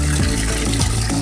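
Water filling over live Louisiana crawfish in a container for washing, a loud close gushing rush with a rising fill tone, continuous for the short stretch and with no talk.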